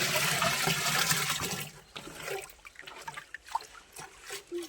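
Dissolved jaggery liquid is poured into a barrel while making jivamrut on a natural farm: a steady gushing pour for about two seconds, then thinner dribbles and splashes trailing off.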